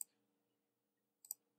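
Faint mouse clicks while modelling in Blender: one sharp click at the start, then a quick close pair of clicks about a second later, over near-silence.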